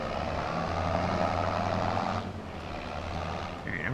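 A low, steady engine drone from an old Ford tractor in Farming Simulator 25, droning continuously at close range with a slight dip in tone partway through.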